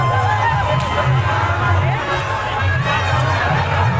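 A dense crowd at the Salori Dadhikando fair fills the air with loud, continuous babble, shouts and cheering, close and unbroken throughout.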